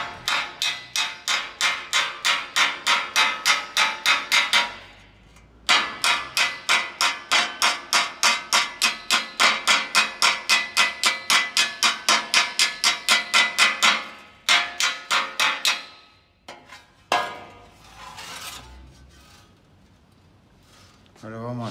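A hammer taps rapidly and steadily on the edge of car body sheet metal in long runs of sharp, ringing strikes, pausing briefly, then a few scattered louder blows at the end.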